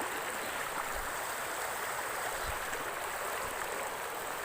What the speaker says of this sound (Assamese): বিৰাট পানী হৈছে।